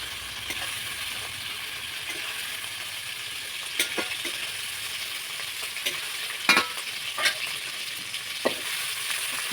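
A ladle stirring frying food in a pan while cooking paneer pulao as a festival offering: a continuous oil sizzle with sharp intermittent scrapes and clacks of the ladle against the pan, close and fairly loud, without talk.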